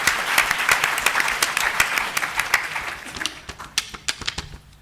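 An audience at a pre-election panel applauds, dense clapping that thins out to a few scattered claps as it fades, heard close and without talk.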